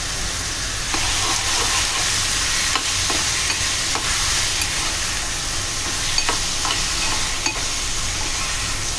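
Ginger garlic paste hits a hot tempering of oil, curry leaves and coriander for a Malvani prawn curry, producing a loud, dense sizzle with regular clicks of stirring and spattering throughout.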